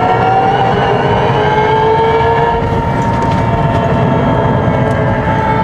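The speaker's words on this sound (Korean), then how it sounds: "이게 비전 74 그란투리스모인가? 그 소리를 구현했다고 하네요." A Hyundai Ioniq 5 N plays a synthetic engine sound modeled on the Vision 74 Gran Turismo, a loud, steady whining hum with sustained tones that holds throughout without talk.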